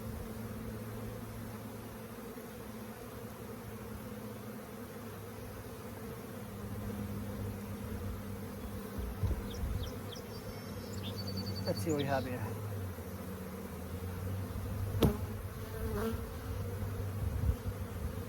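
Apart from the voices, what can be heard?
honeybees buzzing around hive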